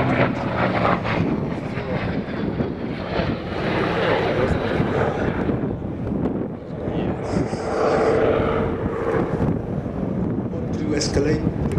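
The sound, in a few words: Royal Navy Historic Flight Sea Fury aircraft flying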